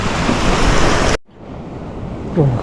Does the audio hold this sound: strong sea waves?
yes